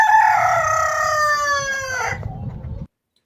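A show rooster's crow played from a recording, one long loud drawn-out call with a rough gargling tail that trails off and cuts abruptly.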